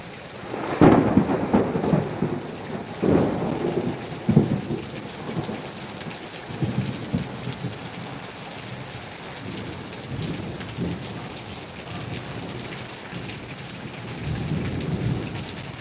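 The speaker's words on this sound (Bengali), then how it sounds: "বজ্র বিদ্যুতের শব্দ আপনারা শুনতেই পাচ্ছেন ইতিমধ্যে প্রচণ্ড হারে কিন্তু বিদ্যুৎ চমকাচ্ছে" A thunderstorm in Bhangar brings heavy rain falling steadily, with several loud close thunder cracks and rumbles early on and fainter rolls later.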